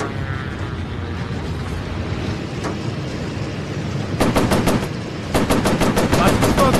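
Warplane machine guns in the VR game Warplanes rattle in two loud rapid bursts over steady engine drone, the second burst longer than the first.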